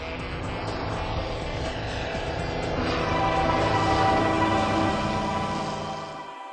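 A light airplane powered by a Corvair air-cooled six-cylinder engine drones steadily and loudly, holding a continuous propeller hum with no voices.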